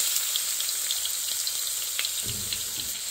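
Garlic fries in a pan with a steady, bright sizzle that hisses continuously and alone, with a few soft clinks.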